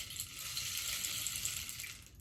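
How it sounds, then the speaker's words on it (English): A rain stick is played in a yoga class, producing a continuous close hiss of trickling, pattering beads that sounds like falling water and holds steady without any pause. "So I like to use my rain stick in class"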